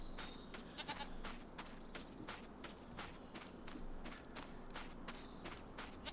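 Goats in Farming Simulator 25 bleat quietly beneath a steady, rhythmic run of game footstep thuds, with the animal calls faint and mixed into the walking pattern.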